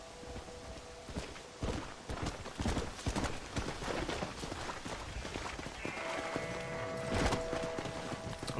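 Horse hooves clip-clop at a walking pace in the Red Dead Redemption: Undead Nightmare video game, a steady run of close, moderately loud footfalls over a busy ambient game background with occasional tonal sounds.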